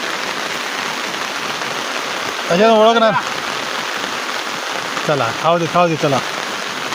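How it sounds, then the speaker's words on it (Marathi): Steady, loud rain falls as a dense continuous hiss throughout, with people briefly talking over it twice. "पाऊस का थांबचं नाव घेणार नाही"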